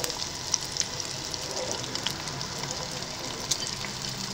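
Batter-coated chicken cartilage deep-frying in a pool of oil produces a constant, moderately loud sizzle with occasional small pops and crackles.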